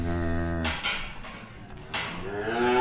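A cow moos loudly and close by shortly after calving on a farm, one long low call followed by a second rising bellow, with no talking.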